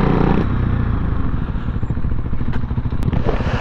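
A Honda C90 motorcycle engine rumbles close and steady at a Brighton Burn Up ride, with a buzzy low drone and some clatter and scraping over it.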